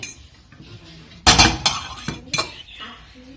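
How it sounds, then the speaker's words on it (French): A fork scrapes and clinks against a pot as it lifts and fluffs cooked jasmine rice, giving a few sharp, close metallic knocks with a loud cluster near the middle. "Le soulève avec une fourchette en faisant des ronds pour que ça ne s'écrase pas"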